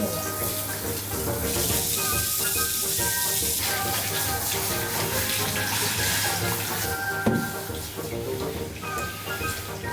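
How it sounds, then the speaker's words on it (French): Shower water streams steadily and loudly while a small dog is washed indoors, a continuous hiss with faint background voices. "On va procéder au le pire moment pour Jelly, le pire moment de la vie, c'est la douche"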